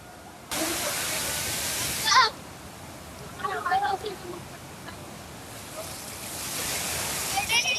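Rushing water at Kuderan waterfall near Badlapur during the monsoon, a broad steady roar close by that surges at the start and end, with voices talking briefly in the middle.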